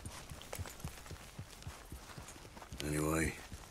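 Horse hooves clip-clop at a steady walking pace in the video game Red Dead Redemption 2, close and moderately loud. Someone speaks over the steps near the end.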